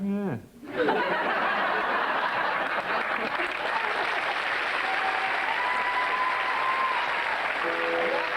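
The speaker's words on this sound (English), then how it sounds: "why is it that sticking your tongue out makes the audience cheer?" A television game-show studio audience breaks into loud, sustained applause and cheering with scattered laughter, steady and close for several seconds after a brief musical sting, while people keep talking over it.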